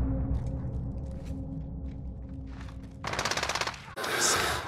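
Automatic weapon fire in a video game team deathmatch: a quick rattling burst followed by a louder, sharper volley at the end, over a low background game hum.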